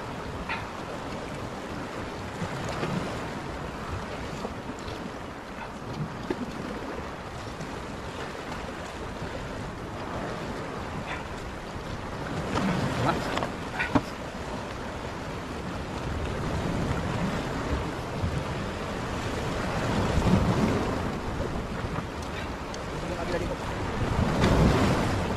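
Sea waves wash onto Patungan Beach in Ternate, Cavite, a fishing spot, loud and close with wind buffeting the microphone, swelling and breaking in repeated surges over the full stretch.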